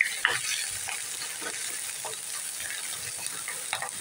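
Chili sizzles in a pan with garlic and ginger for a ragi soup, a steady close crackling fry with occasional stirring scrapes, while a voice speaks faintly underneath.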